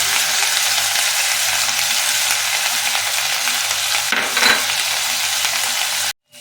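Tofu being stirred with soy sauce and tomato sauce in a hot pan, a continuous close sizzle with soft scraping of a spatula and a brief louder stir near the end before it cuts off.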